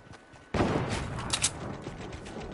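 Gunfire in the video game Fortnite bursts in suddenly as a dense, loud stream of rapid shots and impacts that continues without pause, with no talking over it.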